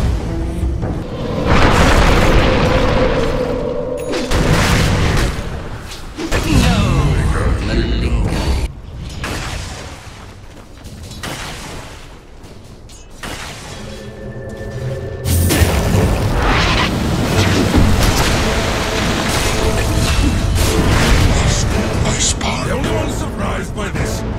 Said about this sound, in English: Radiant's top tower is under attack.